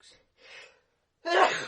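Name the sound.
sneeze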